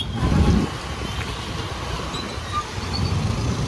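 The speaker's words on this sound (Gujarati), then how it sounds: "ટ્રાફિક ટ્રાફિક ટ્રાફિક, બહુ જ ટ્રાફિક છે." Heavy street traffic on a busy city road near a metro construction zone, heard as a steady, dense rumble of passing vehicles that stays constant and fairly close, with no voices.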